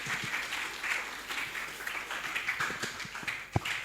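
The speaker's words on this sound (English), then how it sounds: "A round of applause" The audience at a national financial literacy conference panel applauds, a steady, moderately loud patter of many hands that swells slightly and ends with a single sharp clap or knock near the close.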